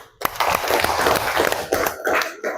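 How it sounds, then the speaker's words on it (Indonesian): An audience claps after a prompt at an Indonesian religious talk, a short dense burst of hand claps lasting a couple of seconds with a brief dip partway through. "Oke, tepuk tangan."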